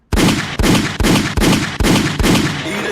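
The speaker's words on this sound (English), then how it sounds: "do I hear gunshots?" A rapid series of about six loud gunshots, evenly spaced about half a second apart, each a sharp crack with a lingering boom, close and dominant with no voices.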